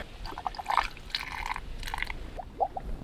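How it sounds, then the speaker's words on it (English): Air escapes as a van's hot water heater is filled, giving brief wet gurgling bubbles in a few irregular bursts. They are fairly close and sit over a low background hum, with no talking. "Yeah, you can hear some bubbling. It's the air escaping from the other end"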